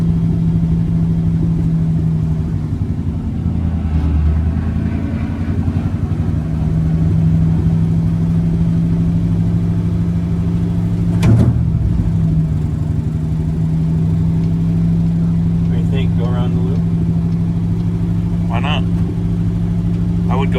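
A car engine cruising in a high gear, a steady low drone that holds close and even throughout with slight swells, while people talk inside the vehicle.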